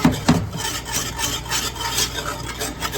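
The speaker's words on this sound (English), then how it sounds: "So I need to keep stirring." Spoon scraping and stirring gravy in a pan, a steady rasping, rubbing scrape with a couple of sharper knocks at the start, close and fairly loud.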